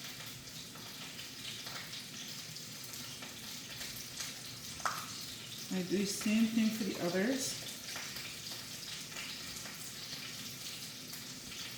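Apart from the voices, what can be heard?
meat sizzling in pan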